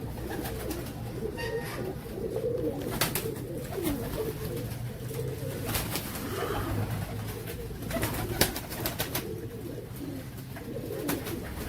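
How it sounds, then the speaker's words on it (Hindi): Royal Teddy pigeons cooing in a loft, soft low coos repeating through the clip over steady background noise, with a few scattered clicks and knocks. "कबूतर तो और भी जोड़े लगे हुए हैं मेरे पास।"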